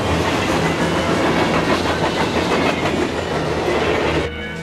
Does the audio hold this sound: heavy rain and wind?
no